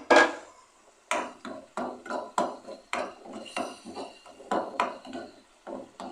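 Spices (cumin, crushed salt, crushed chilli and turmeric) go into fried onions in a karahi pan, with a string of sharp, close spoon knocks and clatters against the metal at an irregular rhythm, and no talking.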